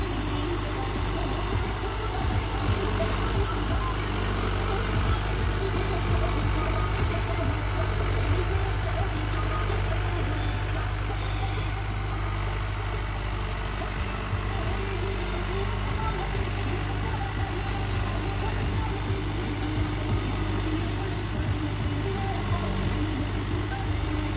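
A 575 tractor engine runs at a steady, continuous low drone with a rumbling exhaust throughout, holding an even level with no clear changes in revs.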